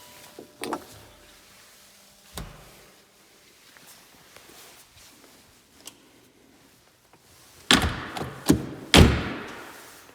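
Heavy doors on a BMW Z8 roadster with the S62 engine thud shut in a quiet space: two isolated knocks early on, then a cluster of louder, close slams and clunks near the end.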